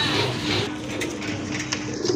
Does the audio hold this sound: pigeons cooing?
yes